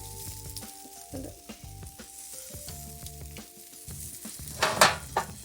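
Food sizzling and charring in a hot pan, a steady frying hiss with a few louder crackles near the end, heard under a tonal musical backing.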